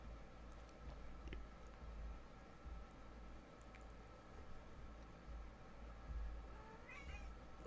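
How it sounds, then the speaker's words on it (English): A faint, brief cat meow rises near the end over a steady low background hum, quiet and somewhat distant. "Oh, I hear a kitty."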